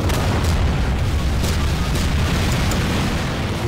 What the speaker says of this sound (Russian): Базука. Пошла базука.